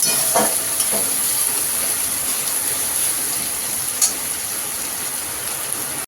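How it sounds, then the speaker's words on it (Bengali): Onions fry in a pan with a steady, dense crackle and a few brief scraping stirs, close by and alone. "পুরোপুরি পেঁয়াজটা ভাজা হয়ে গেছে।"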